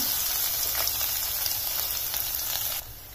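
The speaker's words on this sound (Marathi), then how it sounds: "मोहरी छान तडतडल्यानंतर त्यात टाकायचं 1 टीस्पून जिरे, अगदी थोडासा हिंग आणि आता टाकूया आपण यात लसण जो आपण ठेचलेला होता" Mustard seeds, cumin, asafoetida and crushed garlic sizzle steadily in hot oil, a close, continuous crackling fry with no voices.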